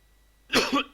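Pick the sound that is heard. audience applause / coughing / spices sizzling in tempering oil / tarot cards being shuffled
coughing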